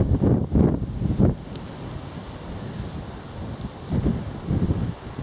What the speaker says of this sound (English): as you can possibly hear, now I'm out in the open, the wind's picking up